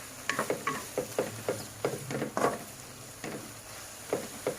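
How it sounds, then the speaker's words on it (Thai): Shrimp and squid dry stir-fried with holy basil, no water added: a quiet run of rhythmic spatula scrapes and knocks against the pan over a faint sizzle. "เราจะไม่ใส่น้ำนะคะ ของเรา สูตรของเรานี่จะไม่ได้จะไม่เติมน้ำลงไปนะคะ จะผัดแบบนี้เลยแห้งๆ"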